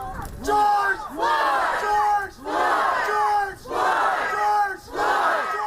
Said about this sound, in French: Acclamé, soutenu par la foule